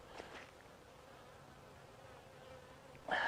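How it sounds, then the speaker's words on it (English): Honeybees fly around autumn hives during cleansing flights, a steady, faint insect buzz hanging in the background throughout, with a louder burst near the end. "As you can see, bees are flying, doing their cleansing flights."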